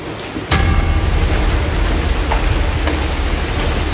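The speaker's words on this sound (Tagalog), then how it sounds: "lumalakas na yung ulan" Heavy rain pours steadily at night near street lights, a dense constant hiss that swells after a sudden onset and holds loud throughout, with a low rumble underneath.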